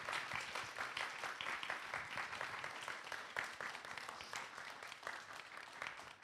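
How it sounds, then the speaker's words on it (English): Audience applause for authors Holly M. Wendt and Curtis Smith at their book launch evening, heard as a fairly faint, distant, steady patter of many hands clapping throughout. "can we give Holly and Curtis one more round of applause?"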